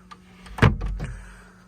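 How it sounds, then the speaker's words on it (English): A cabin door on a 2004 Galeon 330 Fly motor boat swings shut with a single dull thud and brief rattle, close by, fading into quiet room tone without speech. "The door closes over."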